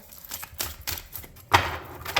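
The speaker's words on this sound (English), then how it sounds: "One more shuffle." Papery shuffling of tarot cards in quick bursts, cards riffling and slapping together several times at close range, with brief pauses between.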